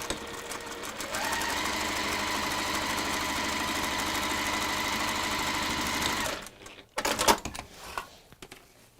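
Sewing machine running steadily while stitching around the base of a textile piece, a continuous close whirring hum for about six seconds, then stopping, followed by a few short bursts and clatters.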